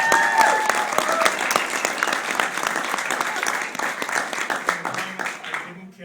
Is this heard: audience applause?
yes